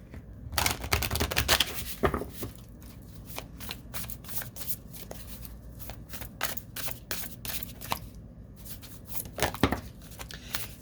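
Astrology cards being shuffled by hand, a quick series of crisp riffling flutters and soft slaps, close and fairly quiet, with short pauses between bursts and no one speaking.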